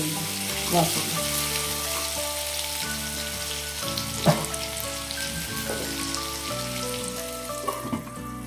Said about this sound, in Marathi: आता व्यवस्थित सर्व मिक्स करून घेऊया धान्यावर झाकण ठेवून आपण ही कैरी मऊ अशी शिजू